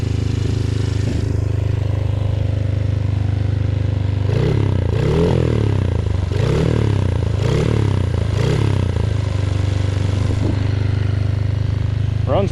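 A Honda CRF50 fitted with an 88cc big bore kit runs loudly up close, its steady engine note broken by a series of quick revs and blips in the middle stretch, with clattering mechanical noise throughout.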